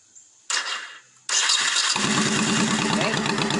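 A carbureted motorcycle engine starts: a short whir of the starter, a pause, then it catches and settles into a loud, steady, close idle with a rapid throbbing beat.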